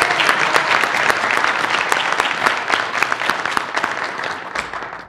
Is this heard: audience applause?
yes